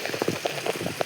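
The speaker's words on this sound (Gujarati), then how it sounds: "અમારા ગામમાં સવાર છે 4 વાગ્યાથી વરસાદ પડે છે" Rain falls in a village, patters and drops tapping irregularly on a surface close by, soft but distinct, with no voices.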